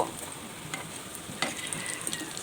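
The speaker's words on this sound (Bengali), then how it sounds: "এখন সমুচাগুলো এক এক করে তেলের মধ্যে ছেড়ে দেব" Mini samosas made from a flour dough are slipped one by one into oil heated on high, setting off a steady, close sizzle with a few brief spattering pops.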